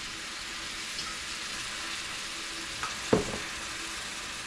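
Peas and beans with shrimp sautéing in soy sauce and oyster sauce, a faint steady sizzle broken by a brief clatter of stirring near the end, no voices.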